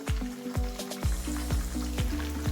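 Chicken pieces for chicken tikka deep-fry in oil, crackling and sizzling steadily with a series of sharp pops, close by and continuous, no talking.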